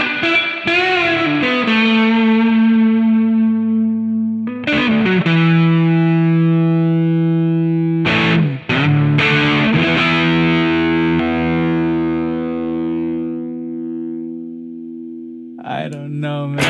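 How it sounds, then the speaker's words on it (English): Distorted electric guitar through an Amplitube 5 amp simulator, soaked in heavy reverb: sustained chords ring out and decay in long washy tails, with a few sharp strummed attacks and re-struck chords, loud and close, no talking. "Let's at least drench it in reverb so that we can feel like we're in the 60s."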